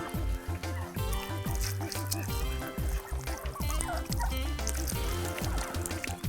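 Flocked turkeys on a turkey farm keep up a dense, continuous chorus of gobbles and chirps, close and loud, mixed with some pouring or trickling water and faint talk in the background.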